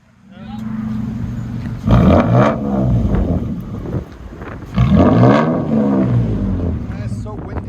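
A Toyota Tacoma truck with a very loud exhaust revs hard in two big roaring surges with a steady idle rumble between, close and outdoors in wind, with people talking over it.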